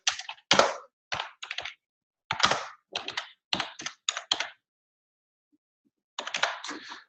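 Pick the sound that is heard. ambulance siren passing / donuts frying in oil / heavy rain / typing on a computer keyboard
typing on a computer keyboard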